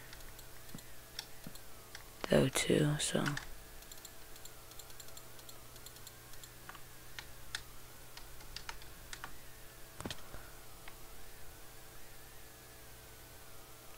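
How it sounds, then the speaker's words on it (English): Computer keyboard and mouse clicks picked up by a desk microphone with a pop filter during a Minecraft gaming session, a dense burst of quick clicks early on, then sparse scattered ticks over a steady hum. "Hopefully you guys are picking up on the clicking"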